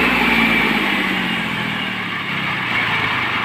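A 2001 Mahindra Bhoomiputra tractor's diesel engine runs steadily at idle, a loud, continuous low rumble close by with no speech over it.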